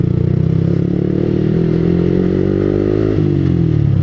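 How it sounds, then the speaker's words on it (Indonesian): Motorcycles rumble at a busy Sunday morning ride in Senayan, Jakarta, a loud, steady mass of idling and revving engines close by, with clatter over the drone and no talk. "di Senayan sendiri itu banyak sekali motor-motor yang keren-keren gitu"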